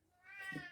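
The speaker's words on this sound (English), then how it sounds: "Sorry about my cat." A house cat gives a single short meow, faint and rising, heard on its own with no voices.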